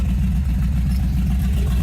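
A 1932 Ford Victoria hot rod with an LT1 V8 and headers rumbles close by, its exhaust giving a deep, loud, steady throb with slight pulsing rather than a sharp rev.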